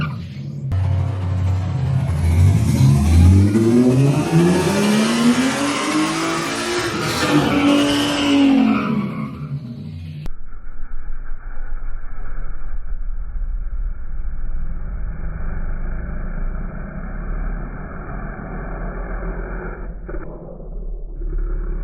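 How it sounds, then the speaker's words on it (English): A Mercedes SLK32 AMG launching on a slick surface: a loud engine revs hard and rises in pitch as the tires spin for about ten seconds, then the run cuts to a steadier, duller engine drone. "I want to see the tire spin and make sure that the car actually sinks down and stays all the way forward instead of bouncing."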